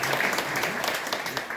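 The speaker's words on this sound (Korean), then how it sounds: "박수로 환영해 주시기 바랍니다." A church congregation applauds in welcome during a Sunday service, a steady wash of many hands clapping together, loud and continuous for the whole moment.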